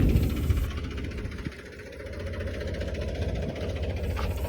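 A tractor engine idling on a village road, working with a peanut thresher, a steady low mechanical rumble with a faint knocking pulse, moderately close and running alone without talk.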